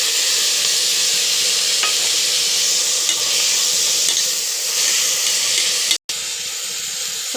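Tomato and fenugreek leaves fry and are stirred in a pan, a steady loud sizzle with scraping stirs throughout and one brief break near the end.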